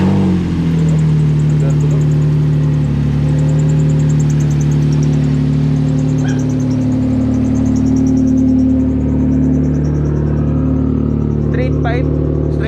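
A Nissan S13 with a straight-pipe exhaust runs on a dyno, its steady, loud engine drone and low rumble holding throughout with slight rises in revs, while people talk faintly in the background.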